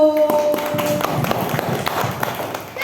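Audience at a class theater performance bursts into applause, a steady wash of clapping with scattered sharp claps and faint voices throughout.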